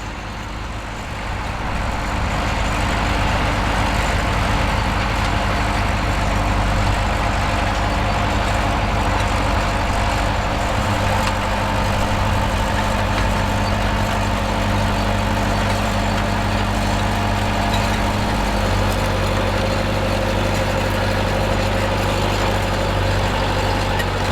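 The 7.45-litre four-cylinder A41 engine of a 1974 Belarus DT-75M crawler tractor runs steadily with a loud, low, continuous rumble, close by and unbroken for the whole span, with no talking.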